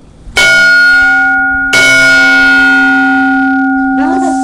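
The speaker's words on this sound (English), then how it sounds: "Okay, ring the bell 3 times," A meditation bell at a Zen sitting is struck twice, loud and close, each ring holding a long resonant tone, before a softer third contact near the end.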